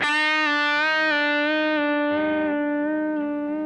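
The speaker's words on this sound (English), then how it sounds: "rotate your wrist to bend the note, to bend the pitch sharp, and then bring it back" A single sustained electric guitar note, bright and harmonic-rich, its pitch wavering slightly with wrist vibrato as it slowly fades.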